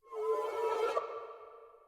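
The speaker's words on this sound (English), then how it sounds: "pitch it up an octave, and then reversed it" A short tonal sample, pitched up an octave and played backwards, swelling in then fading away over about two seconds.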